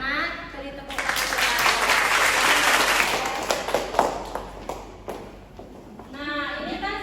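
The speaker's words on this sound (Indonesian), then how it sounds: "Beri tepuk tangan" Schoolchildren in a seventh-grade maths classroom break into a short, lively burst of clapping lasting a few seconds, with the teacher's voice heard just before and resuming right after.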